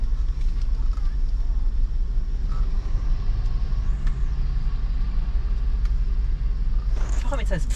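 An Audi car engine idles in a steady low rumble throughout, close by, with a few faint clicks and a brief rustle near the end.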